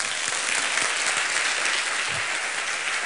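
A church congregation bursts into thunderous applause during a sermon, a thick, continuous roar of clapping hands that holds steady from start to finish.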